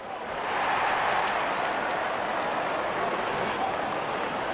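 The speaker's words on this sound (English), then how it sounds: "Openers walking in and the crowd cheering in anticipation." Stadium crowd in the cricket video game Real Cricket 24 cheering and murmuring as openers walk out before an India vs Pakistan match, a steady broad roar of many voices at moderate distance with no break throughout.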